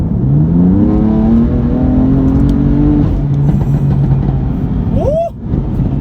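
Stage 1 tuned BMW M4 producing about 500 bhp, revved from inside the cabin with the windows up: a loud rising engine note that holds steady, then drops back with a brief squeal near the end, close and alone.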